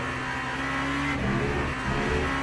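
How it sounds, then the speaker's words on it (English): A turbocharged V8 endurance race car in the sim racing game Le Mans Ultimate, its engine droning with a steady high whine and sustained harmonic tones that dip and rise slightly as the car shifts and accelerates, loud and close. "I do like the whine you can hear from the big V8 engine."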